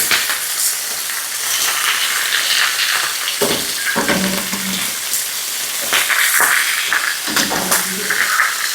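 Meat sizzles and fries steadily in a hot pan, a loud close crackling hiss with occasional bursts as it is stirred and turned.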